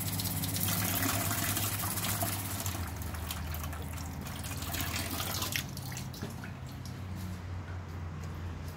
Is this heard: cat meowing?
no